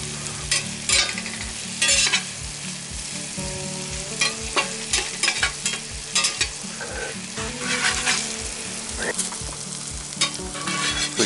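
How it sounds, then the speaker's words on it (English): Onions fry in a Field Company cast-iron skillet over a campfire, their steady sizzle broken by repeated rhythmic scraping and flipping strokes, close up with no talking. "Give them onions a little flip."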